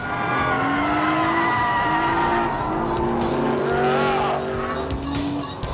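A Nissan car's tires squeal through a light slide over a loud, droning engine note that rises and falls, continuous and close for several seconds.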